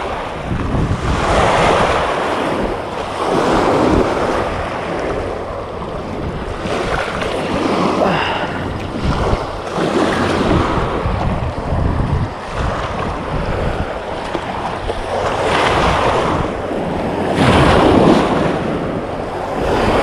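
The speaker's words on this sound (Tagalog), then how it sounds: "sobrang lakas na ng hangin at alon" Strong wind and waves on Laguna Lake during a traditional tilapia fishing trip, with loud, continuous wind buffeting the microphone and water churning and slapping in rolling surges.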